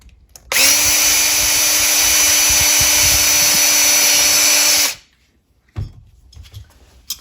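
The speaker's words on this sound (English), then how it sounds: "I'm going to go ahead and do that using my number 30 drill bit." A power drill with a number 30 bit bores a rivet hole for about four seconds, giving a loud, steady high whine that cuts off abruptly, followed by a few faint clicks and handling sounds.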